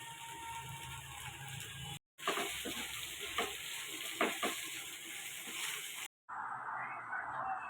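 Tomato pasta sauce with chili powder, salt and tomato sauce being stirred in a pan, a close, steady scraping and sizzling with a few sharper spoon strokes, broken by two brief silent cuts.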